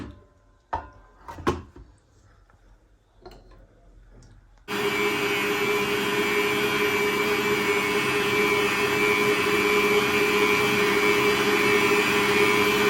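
Electric mixer beating lemon cake batter with yogurt, lemon zest and juice, a loud steady whirring drone that switches on abruptly after a few soft kitchen knocks and runs continuously to the end.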